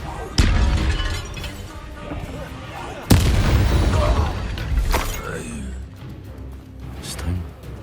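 The Confringo explosive spell from Hogwarts Legacy on PS5 goes off in two sharp, loud blasts a few seconds apart, each followed by a rumbling, debris-filled tail amid other game effects.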